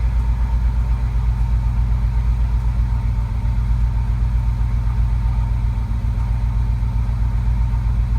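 A 1986 Pontiac Fiero SE engine idling steadily nearby, with a constant low rumbling drone and an even pulsing throb, no voices over it.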